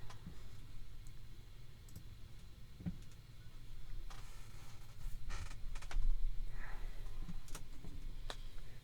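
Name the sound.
shuffling playing cards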